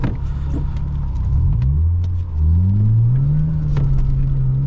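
Steady low engine drone of a BMW E36 320i sedan on the move, with the pitch rising and falling as it changes speed, heard from inside the cabin.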